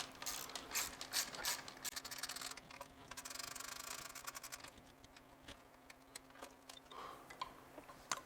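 A ratchet wrench clicks rapidly and faintly at close range while backing out 5mm bolts from the rear battery plate of a Surron electric bike during a power kit install, the clicking coming in bursts with pauses between.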